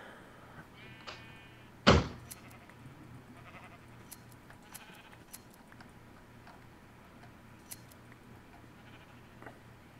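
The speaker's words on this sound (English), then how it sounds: "Good lord, look at all these sheep." Sheep bleats in Minecraft with the Galacticraft mod: one loud, close bleat near two seconds with a fainter call just before, then sparse quiet clicks and faint ambient noise.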